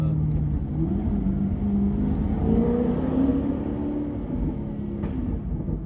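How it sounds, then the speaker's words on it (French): Alfa Romeo 8C Competizione engine revving close by with an aftermarket exhaust, a steady loud rumble rising and falling in pitch, with a brief exhaust backfire pop amid the throaty drone. "il y a eu un petit retour de flamme là, très agréable"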